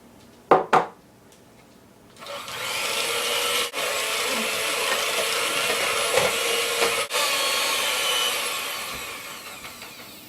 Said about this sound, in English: Looks like it has all globbed up on the mixer.